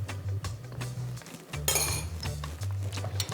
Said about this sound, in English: And we just mix that up and just have a taste.